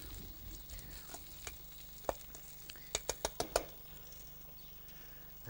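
A salad of iceberg lettuce, coriander and red onion being tossed in a bowl: soft rustling with a quick run of light crisp taps and clicks in the middle, quiet and close, without talk.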